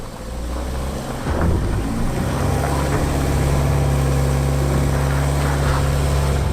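A 2018 Subaru Outback engine straining and revving as it climbs a steep gold mine hill, a loud, close, continuous drone that rises after the first second and holds steady, with no talk.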